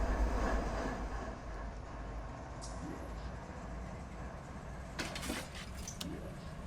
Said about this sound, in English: So I'll get these 2 locomotives fired up